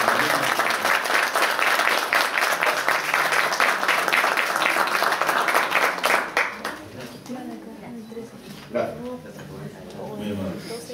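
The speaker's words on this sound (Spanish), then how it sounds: "Y nosotros le brindamos un afectuoso aplauso." Loud, sustained applause from an audience at a 2015 diploma-course graduation ceremony fills the first six seconds, then fades as a speaker continues talking over scattered residual clapping.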